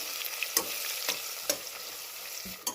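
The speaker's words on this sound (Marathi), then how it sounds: "बटाटा आणि ते सर कांदा वगैरे सर्व परतलं आहे" Potato and onion sauté in a pan with a soft, steady sizzle. A spatula strikes and scrapes the pan several times, sharp and close against a quiet background, with no talking.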